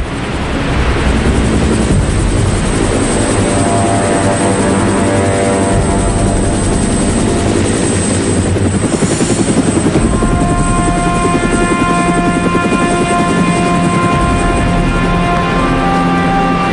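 A helicopter drones loudly throughout, its rotor chop and engine whine steady and close, with the pitch shifting slightly midway.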